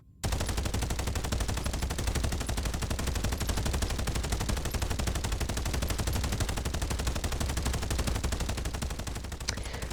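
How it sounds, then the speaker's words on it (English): A minigun fires nonstop in the mech shooter game Daemon X Machina Titanic Scion, a dense, rapid, even stream of loud shots that runs unbroken for the whole stretch with no talk. "we're going to start with the minigun here, just to kind of get a baseline of how the stat's going to affect its firing rate and its accuracy"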